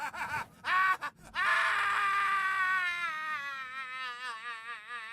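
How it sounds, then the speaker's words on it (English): A man screams in Divinity: Original Sin 2, a long wavering anguished cry that starts with ragged bursts and then trails into a quivering, fading wail, loud and close with no other voices. "The screaming stops"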